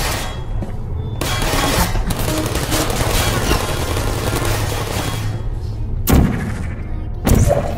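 Rapid gunfire crackles from automated turrets on a live-fire course built for military androids in the Portal video game. A dense, loud, continuous barrage is broken by a couple of heavier thumps near the end.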